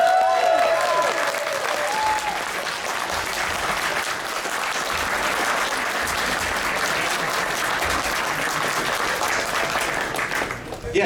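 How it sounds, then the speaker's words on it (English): A convention crowd gives a long, sustained round of applause, dense and loud clapping filling the hall with faint cheers mixed in and continuing without a break. "give yourself and each other a round of applause"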